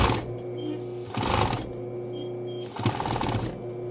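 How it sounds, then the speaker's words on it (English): A sewing machine backstitches along denim jean seams, its needle running in steady whirring bursts that pause briefly and restart, close and clear with no talk. "I'm going to backstitch"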